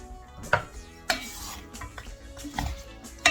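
A spoon stirs beef Massaman curry with lemongrass in a pot, making soft scrapes and sharp clinks against the metal. A faint simmer sizzles underneath, with no voices.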